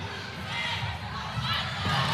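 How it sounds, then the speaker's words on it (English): Crowd noise fills the arena at a 2023 ACC college volleyball match between Georgia Tech and Louisville: a broad, continuous roar of spectators that swells slightly toward the end, with a commentator talking over it. "Listen to the noise of this crowd"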